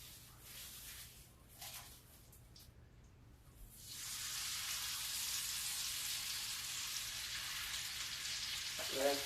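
A ribeye steak goes into a cast iron skillet, starting quiet with faint rustling, then breaking into a steady, bright, hissing sear that holds to the end.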